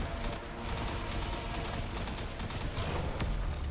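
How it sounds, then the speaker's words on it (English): Rapid gunfire in the video game Destiny 2, a dense, continuous crackling fusillade that stays loud and unbroken throughout. "let's go shoot the yellow light"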